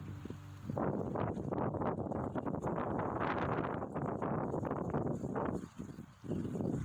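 Strong outdoor wind buffets the microphone in a loud, steady roar that runs almost without a break, dipping briefly near the end before surging back.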